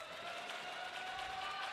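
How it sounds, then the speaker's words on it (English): Crowd noise at a college women's volleyball match between Saint Martin's and Adelphi, a steady wash of cheering and clapping from the stands held at an even level throughout. "Crowd's getting fired up for this."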